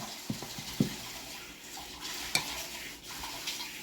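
A spoon stirs fermented wild pearl millet dosa batter in a bowl, with wet, uneven sloshing and a few sharper clinks and scrapes at irregular intervals, close and fairly quiet.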